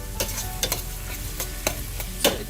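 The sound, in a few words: onions browning in a pan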